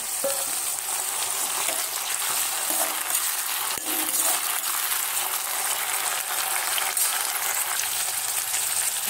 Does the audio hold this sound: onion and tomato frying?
yes